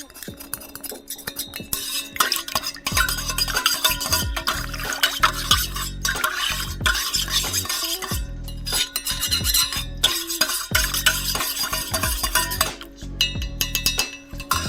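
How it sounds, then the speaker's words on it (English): Homemade wine being stirred and mixed in a pot, with repeated scraping, clinking and sloshing strokes in an irregular rhythm, close and fairly loud throughout. "Good old mixing."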